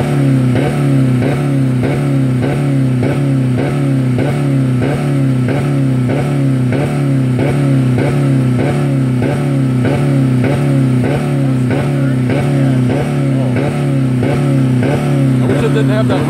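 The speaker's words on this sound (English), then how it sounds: "I wish it didn't have that rev limiter." A 2000 Dodge Neon engine running with no oil or coolant, held against the rev limiter so it bounces in a fast, steady stutter, loud and close throughout.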